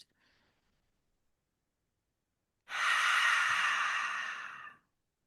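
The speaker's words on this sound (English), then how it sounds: "just breathing in, breathing out, allowing yourself to relax." One slow, deep breath during a guided relaxation exercise: after a near-silent pause, a long airy exhale rises and holds for about two seconds, close and clear, then fades.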